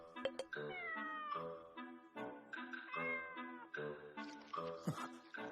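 Cartoonish cat meowing from a video game, several drawn-out, pitch-bending meows following one another in quick succession, loud and close with no talking over them.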